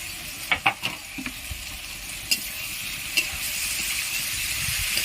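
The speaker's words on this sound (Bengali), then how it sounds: "নাড়াচাড়া করে নেব নাড়াচাড়া করে নিয়ে সয়াবিনগুলো সব" Soybean chunks being stirred in a frying pan, with a steady hiss of frying beneath a few sharp scrapes and knocks of the spoon, close and moderately loud, no voices.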